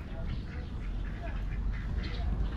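Ducks quacking at an eco park, a few calls over steady outdoor background noise and a faint voice, at moderate distance.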